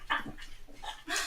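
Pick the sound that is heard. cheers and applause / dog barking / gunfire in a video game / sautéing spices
dog barking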